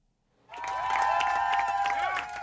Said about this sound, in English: One last cheer from his staff